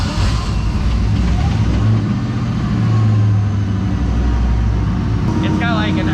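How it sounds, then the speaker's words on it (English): A car engine runs loudly and steadily at close range throughout, with a rough low rumble and voices over it. "When you go to fire it up, it rolls."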